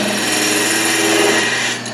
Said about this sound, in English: You want to start with your tool high and drop the handle until it starts to cut like that, or catch